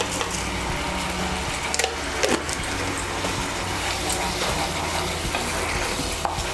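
Pointed gourd being stirred in a pan with salt, turmeric and sugar, a constant moist sizzle broken by repeated scraping and knocks of a spatula against the pan, with no talking.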